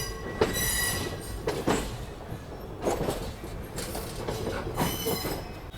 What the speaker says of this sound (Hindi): ये देखो सारी लाइंस को हम लोग क्रॉस करते हुए बढ़ रहे हैं नई दिल्ली की तरफ